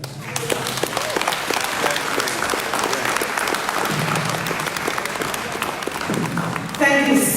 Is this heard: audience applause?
yes